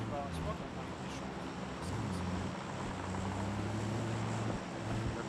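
An airplane in the video game PUBG drones as a low, steady engine hum beneath a player's voice chat, staying moderately faint throughout.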